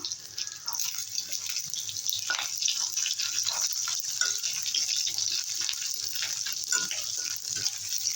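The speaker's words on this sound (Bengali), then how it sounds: "তেল গরম হয়ে গেছে ডিমটা ভেজে নেব" Fish roe fries in hot oil in a pan, cooking for an okra curry, with a steady, even sizzle and crackle that carries on unbroken throughout, close by and with no voices.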